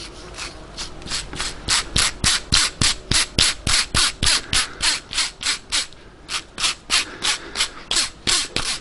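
Rapid, evenly spaced scraping clicks come from a noisy Volkswagen GTI VR6 engine part being spun by hand on the bench, loud and close, running steadily with a brief pause.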